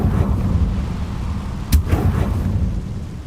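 A Confringo fire spell bursts in Hogwarts Legacy, a single sharp blast near the middle, rising briefly over a steady low rumble of game ambience.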